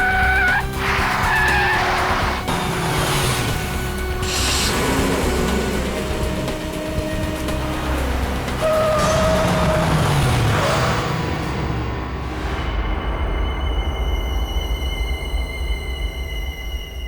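A car swinging around with its tires skidding in a tense crime-drama scene: loud, close rubber squeals rise and fall over roaring engine noise for most of the stretch, then fade out near the end.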